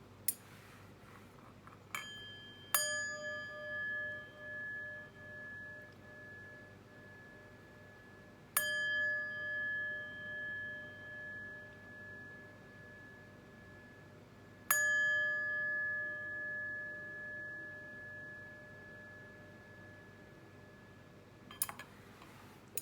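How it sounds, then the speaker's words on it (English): Chimes struck three times at long, even intervals, each strike ringing bright and sustained as it slowly fades, with a softer strike near the end and no voices. "But first, let's chime."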